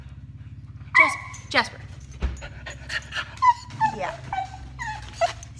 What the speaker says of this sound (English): this is my parents' dog